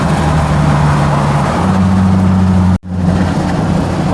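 The 4.0-litre V6 in a 2007 Ford Mustang, just back running after an alternator replacement, idles close and loud with a steady rumble that rises in pitch partway through, then a sudden brief drop before the engine settles.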